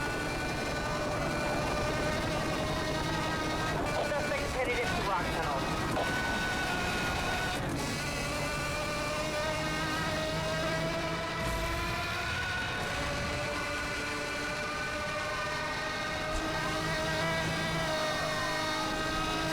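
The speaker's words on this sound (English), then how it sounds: "hopefully you guys can appreciate the noise of the engine." A racing car engine in Need for Speed Hot Pursuit Remastered on PS5 revs hard throughout, its pitch climbing and dropping with gear changes and speed, loud and continuous with no talking.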